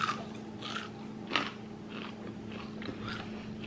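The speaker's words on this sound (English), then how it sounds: "let me just do a little crunch test" Close, quiet bites and chewing on crunchy homemade coconut granola chunks give a few sharp crunches, one especially crisp snap in the middle, over a faint background hum.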